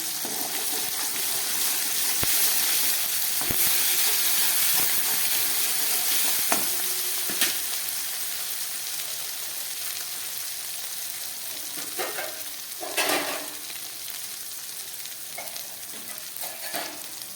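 Grated ginger with half spoons each of coriander and cumin powder sizzles steadily in a hot pan, a continuous loud frying hiss with occasional stirring scrapes and clicks, no voices.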